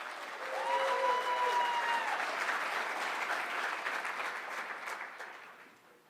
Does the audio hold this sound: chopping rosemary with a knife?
no